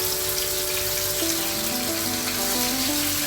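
Homemade masala paste for an egg omelette sizzles in hot oil in a pan over high heat, a steady, close crackling hiss throughout with no talking.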